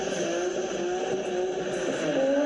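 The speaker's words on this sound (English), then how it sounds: "BMW's Straight 6" A BMW straight-six car engine drones at a steady, moderately loud pitch that slowly rises toward the end, with no voices over it.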